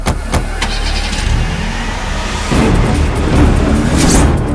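A car engine starts and the vehicle pulls away, a steady mid-pitched engine drone rising as it accelerates, fairly loud and close, with no voices.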